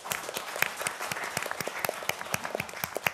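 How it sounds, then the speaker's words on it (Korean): Applause from the audience at a Korean panel discussion on digital piracy and copyright education: a steady, dense patter of many hands clapping together at moderate loudness, with no voices over it. "굉장히 흐뭇하게 표정을 지으시면서 박수를 보내는 걸 보니까"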